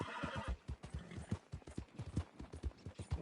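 A horse whinnies in a video game, then gallops off with quick, rhythmic hoofbeats that stay close and loud across the whole span.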